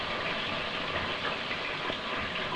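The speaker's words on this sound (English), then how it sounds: "We're browning away, as you can hear." Chicken pieces browning in a frying pan for matzo ball soup, giving a steady, loud broadband sizzle that stays constant throughout with no talking.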